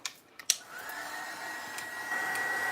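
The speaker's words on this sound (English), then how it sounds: "I'm mostly trying to dry just the graphite paste." A heat tool blowing to dry graphite paste in a mixed-media craft project, starting after a few small clicks and then a steady close airy whoosh with a faint high whine.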